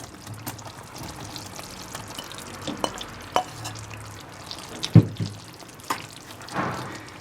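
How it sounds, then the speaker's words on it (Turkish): Cherries tipped into boiling sugar syrup for homemade jam, giving soft stirring, pouring and sizzling sounds with a few sharp clunks and splashes over a low bubbling simmer, no talk. "Şimdi kirazını içine ilave edelim."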